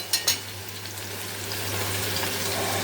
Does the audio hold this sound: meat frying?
yes